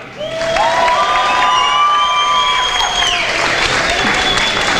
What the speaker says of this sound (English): How about another big round of applause for Jada?